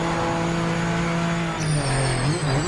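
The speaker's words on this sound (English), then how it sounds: "The downshifting seems better." A GT3 race car engine in the PMR racing game, a loud, close, droning tone that drops in pitch with a quick blip and whine as the car downshifts midway, then settles into a lower, wavering growl.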